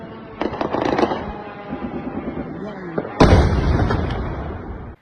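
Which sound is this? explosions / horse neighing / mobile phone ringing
explosions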